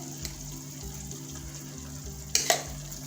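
Onion paste fries in a pan for a mix veg kofta curry, giving a steady close sizzle with low rhythmic stirring pulses and two sharp clattering knocks near the end. No one speaks.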